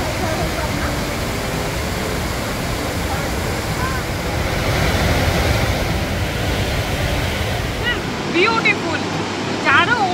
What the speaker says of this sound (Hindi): ब्यूटीफुल चारों ओर से वाटरफॉल यू कैन सी